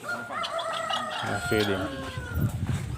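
Chickens in an African village in Nyabohanse cluck and crow intermittently at moderate distance while feeding, with voices talking over them and other village sounds around.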